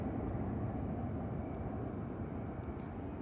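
A Ryanair jet departs Manchester Airport for Belfast, a steady, low, distant engine rumble that fills the short span evenly without any talk.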